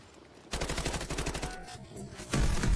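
Automatic gunfire in the Delta Force shooter, with sustained rapid bursts after a brief lull and a louder, heavier burst near the end, all close and loud.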